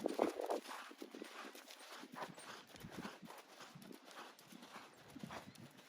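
Horse hooves cantering in a dressage schooling session, a steady rolling three-beat clip-clop on an arena surface, moderately close and continuous, with a faint snort or whinny near the start and no talking.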